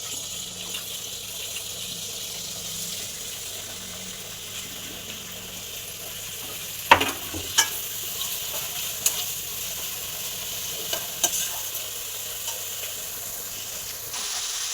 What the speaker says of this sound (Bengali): এবার তেলের মধ্যে আমি গাজরগুলো ভেজে নেব।